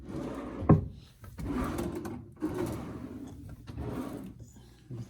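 Hotel room drawers slide open and shut in several rubbing, scraping strokes, with a sharp knock as one closes, recorded up close in a quiet room.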